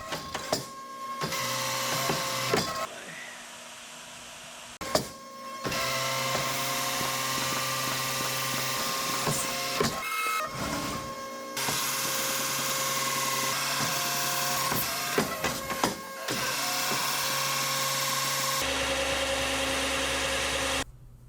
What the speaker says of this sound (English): all I got to do is drill 1 hole through the top at the back and then 4 holes in the bottom to be able to mount it